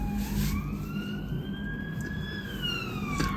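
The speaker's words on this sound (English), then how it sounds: "Ambulances, fire trucks, police cars, lots of traffic." Ambulance, fire truck and police sirens wail, rising and falling over steady main-road traffic rumble, sounding from outside at moderate distance, with no one speaking.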